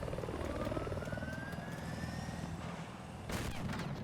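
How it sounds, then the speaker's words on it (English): Helicopter in Battlefield 4 during an 8v8 Conquest match, a steady rotor drone with a rising turbine whine, distant gunfire and a burst of explosion near the end, no voices. "Helicopter up for Legacy."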